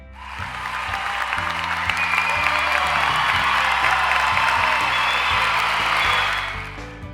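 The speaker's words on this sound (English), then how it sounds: "let's give a special round of applause to Gia and Kyle for their achievements" Applause mixed with cheering and whoops at a graduation ceremony in a Roblox Brookhaven roleplay, dense and loud over a repeating musical bed, swelling briefly and fading near the end.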